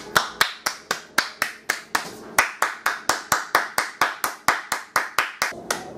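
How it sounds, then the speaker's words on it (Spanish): Clapping from a small group in a classroom skit, a steady run of sharp, evenly spaced claps lasting several seconds, loud and close, with no talking over it. "¡Aplausos para él!"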